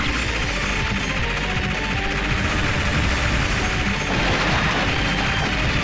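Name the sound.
heavy machine gun bullets firing in Metal Slug 5 video game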